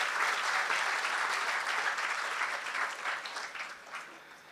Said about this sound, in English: I think we all should offer a very big round of applause.